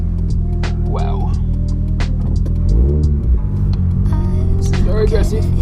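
Nissan S14 fitted with a 2-way differential, driven for the first time: a steady, loud engine hum and throbbing drone fills the cabin throughout, with a brief swell in rumble near the middle and occasional clicks.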